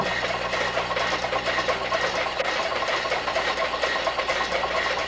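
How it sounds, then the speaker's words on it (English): A homemade hydro-electric engine whose prime movers turn an alternator, giving a steady, close mechanical hum and rapid rattling vibration that continues unbroken, with no talk. "You see the prime movers are moving, turning the alternator."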